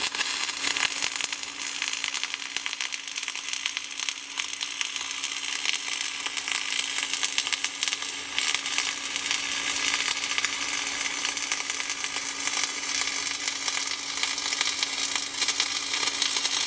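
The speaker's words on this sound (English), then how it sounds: "I'm going to weld across the bottom, turn 45, come in here, turn 45, and then weld around." Multi-pass arc welding along a tight corner produces a loud, continuous crackling hiss with a steady hum underneath, unbroken by talk for the full stretch.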